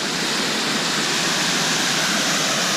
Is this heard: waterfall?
yes